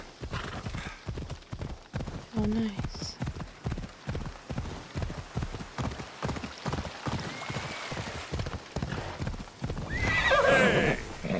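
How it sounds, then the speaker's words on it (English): Rhythmic clip-clop of hooves at a steady trot in the video game Assassin's Creed Odyssey, with a couple of horse whinnies, one loud near the end; a voice speaks briefly. "And the horse will finally be around me."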